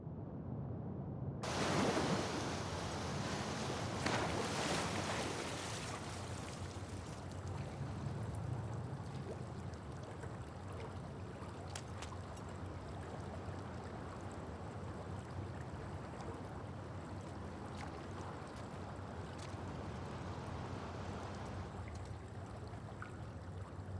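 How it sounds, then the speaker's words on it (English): A fast-flowing torrent of water rushes in The Last of Us Part II, a dense, steady roar that bursts in loudly after a brief quiet start and carries on unbroken, with occasional faint clicks over it. "the player was faced with a fast-flowing torrent of water they couldn't cross"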